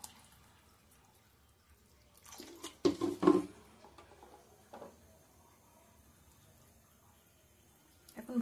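Water goes into a cooking pot of black chickpeas in a quiet kitchen, a few short splashy bursts in the middle, otherwise near silence.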